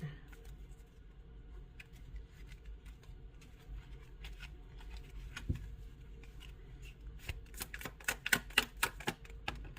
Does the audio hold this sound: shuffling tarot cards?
yes